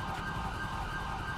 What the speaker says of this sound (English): That's my siren going off still back there.